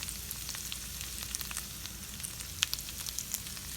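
Food sautéing in a hot pan with a chipotle, garlic, chili and onion powder spice blend, a steady close sizzle of frying with scattered small pops and crackles, no talk.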